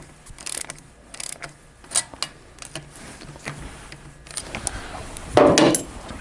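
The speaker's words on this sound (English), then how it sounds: "we can go ahead and use a wrench to tighten them up" Intermittent metallic clicks and ratcheting ticks from a wrench snugging the intake manifold bolts on a Harley-Davidson Shovelhead, irregular bursts with pauses and a louder clatter near the end, close and otherwise quiet.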